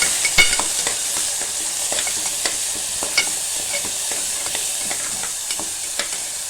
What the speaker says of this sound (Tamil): இப்போ நம்ம அரைச்சி வச்சுருக்க மசாலாவையும் அப்படியே இதிலே சேர்த்துக்கலாங்க